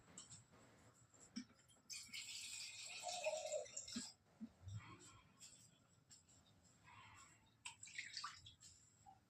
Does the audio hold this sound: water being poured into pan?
yes